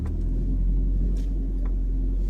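A 2012 Audi S3 Black Edition Quattro on the road, its engine a steady low droning rumble heard from inside the car, with road noise and no talking.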